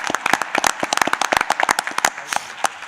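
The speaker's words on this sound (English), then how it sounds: "let's give them a round of applause as well" An audience at a school district live-streamed event claps in a scattered, crisp burst of applause, many hands at close to middle distance, fairly loud and continuous for a few seconds.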